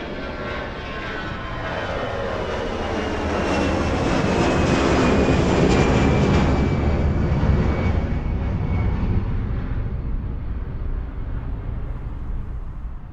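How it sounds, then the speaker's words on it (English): An airplane takes off and roars in from a distance, swells to a loud jet rush as it passes directly overhead, then slowly fades away. "reproducing the exact position of an airplane as it passes by, from taking off to flying directly overhead"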